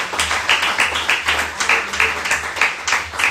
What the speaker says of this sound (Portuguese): Diga amém e aplauda ao Senhor mais uma vez